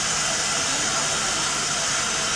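Steam hissing from a hot spring vent in Beppu, Japan, used for steaming food: a continuous, loud, broadband rush with no breaks and no voices.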